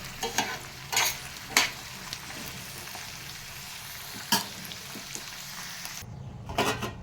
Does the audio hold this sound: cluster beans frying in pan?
yes